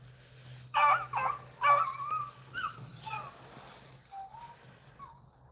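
Beagle pack hounds baying and yipping while chasing rabbits outdoors, several bursts of excited cries from a moderate distance, fading to thinner, scattered yelps toward the end.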